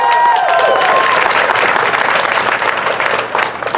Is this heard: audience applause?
yes